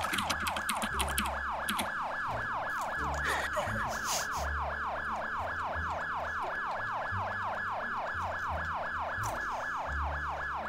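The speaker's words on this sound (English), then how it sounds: "The sirens are so annoying." An emergency vehicle siren in a video game wails in a fast, steady, repeating yelp across the whole stretch, loud and continuous over faint low background rumble.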